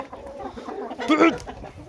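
A rooster squaring up to a hen in a farmyard gives a short burst of loud, close clucking and squawking, with softer fowl noise before it.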